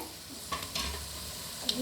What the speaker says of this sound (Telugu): ఇలా గోల్డెన్ బ్రౌన్ వేగుతుందనే